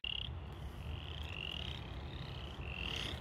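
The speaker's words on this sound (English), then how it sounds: "I hear frogs, hopefully we find some." Frogs croak in repeated high trilling calls from some distance, layered over a steady low background hum of the outdoors.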